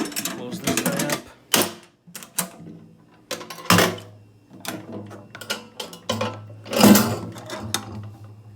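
Metal ammo can being handled, its lid closed and latched, giving sharp metallic clanks and clicks in irregular bursts, close up, with a person talking between and over the knocks.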